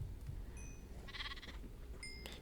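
Quiet Minecraft sheep bleat, one short nasal cry in the middle against faint game ambience, with brief soft chimes before and after.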